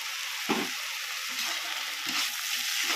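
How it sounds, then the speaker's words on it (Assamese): Dhekia fern fries in a pan with a steady, close hiss of sizzling oil, broken by a few soft scraping stirs. "এতিয়া ভাজি আছো ঢেকিয়াটো"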